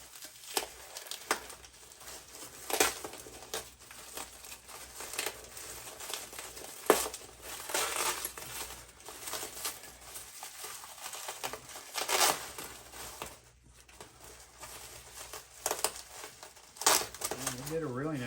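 Bubble wrap and packing material crinkling and rustling as an eBay parcel is unpacked by hand, close and intermittent with sharp crackles, under occasional talk.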